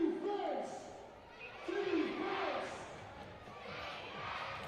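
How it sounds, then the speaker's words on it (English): Crowd noise in a WNBL women's basketball arena during a Bendigo Spirit versus Townsville Fire game, with rising swells of cheering and chanting and a few sharp horn-like tones, heard faintly behind a commentator talking. "Getting the crowd involved here."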